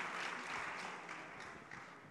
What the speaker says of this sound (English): can I get you a big round of applause?